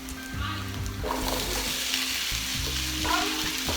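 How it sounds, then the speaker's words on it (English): Diced potatoes sizzle steadily in a skillet while being stirred, a loud, close, continuous frying hiss with scraping stir strokes and no talking. "Now the reason we're stirring, we don't want the potatoes to stick because of the starch at the bottom of our skillet."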